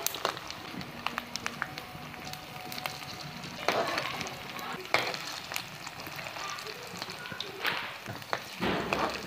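Chowmein pakoras deep frying in hot oil, a steady close sizzle and bubble with occasional taps and stirring clinks.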